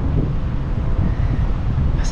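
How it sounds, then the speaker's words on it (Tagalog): Steady broadband wind rushing outdoors by the water on a fishing outing, loud and continuous, with a faint hiss building near the end. "Masarap ng hangin."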